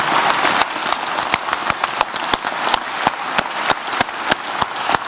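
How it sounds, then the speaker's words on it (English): A conference audience at a closing session applauds the speakers and organisers, dense sustained clapping with sharp individual claps standing out, loud and close, over a faint low hum, with no talking. "Big round of applause."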